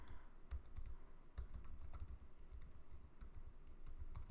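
Steady, fast typing on a computer keyboard, close and fairly quiet, with irregular clusters of clicks and keystrokes and no voices.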